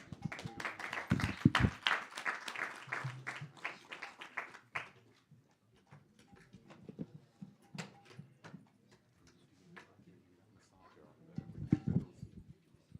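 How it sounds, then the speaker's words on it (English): An audience at an ISKCON temple Sunday program in Coventry applauds after a performance. Dense clapping lasts several seconds, a voice talks through a quieter stretch, and a second burst of clapping follows. "Let's have a round of applause"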